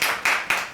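Audience applause at a prayer service in a Seoul seminar room, three short bursts of close, bright hand clapping in quick succession.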